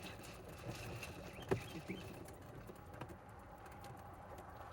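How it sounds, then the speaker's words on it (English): A pigeon or dove gives a few brief, faint coos outdoors, rising just above a low, steady background hum. "Is that bird?"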